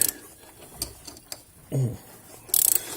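A ratchet backs out a bolt on a 2011 Cadillac CTS 3.6L engine during a water pump job: sparse, close mechanical clicks and pawl ticks, a short whir, then a quick rapid burst of ratcheting at the end, with no talk.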